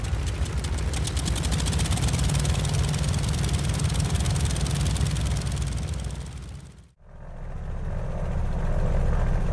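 A vintage Beechcraft propeller plane taxis on a snowy apron, its engine and propeller droning loud and steady from close by, briefly dropping away before swelling back.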